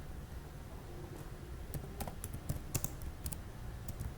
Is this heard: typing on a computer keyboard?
yes